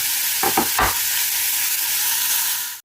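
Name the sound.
chopped onions frying in olive oil in saucepan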